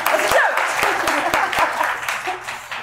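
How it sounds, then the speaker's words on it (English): An audience applauds steadily throughout, a dense wash of many hands clapping in a room at a business talk, with some scattered louder claps standing out. "Round of applause."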